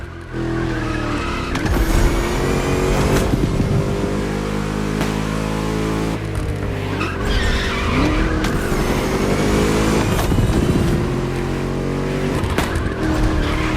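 A V8 muscle car races in The Crew Motorfest, its loud, deep engine roar sustained throughout, rising and falling with gear changes and mixed with tire squeal and skidding, and no one speaks.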